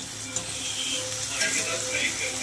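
Cooked drumstick pods hit a pan of hot spiced oil, giving a steady close sizzle with light stirring scrapes over a short stretch.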